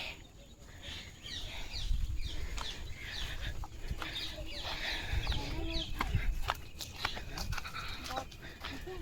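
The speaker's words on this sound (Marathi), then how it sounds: "कसे पक्ष्यांचे आवाज येत आहेत बघा" Birds calling and chickens clucking outdoors in green countryside during the rainy season, repeated chirps and clucks at middle distance over a low background, with some voices present.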